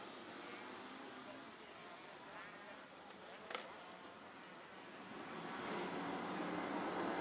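A pack of Max Junior class karts revs at the start of a final: a dense, steady engine drone with a brief sharp spike midway, swelling louder over the last couple of seconds.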